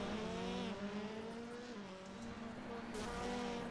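Rallycross cars race in an iRacing sim event at Daytona, several engines whining and shifting pitch as they jostle for position, a continuous loud roar with tire noise and a faint voice underneath.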